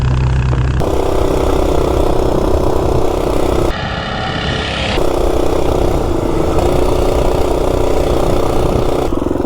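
A Coleman RSV minibike engine idles up close, a loud, steady, buzzing drone that dips briefly in the middle, with no voices.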